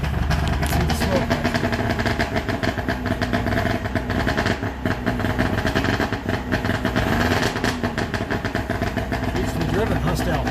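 An engine starting to foul out is given some gas, its throaty revving loud and close, rising and falling unevenly while a person talks over it.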